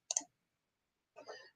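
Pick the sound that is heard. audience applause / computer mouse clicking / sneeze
computer mouse clicking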